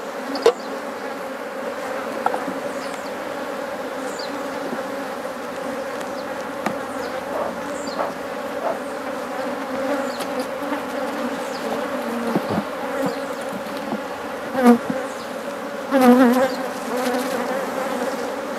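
Honey bees buzz thickly around an opened beehive during a colony split, a continuous close drone with individual bees whining past and a few knocks against the wooden box.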